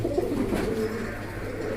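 A pair of red Baghdadi Huma pigeons coo close by, giving low throaty rolling murmurs that run continuously through the moment with no voices heard.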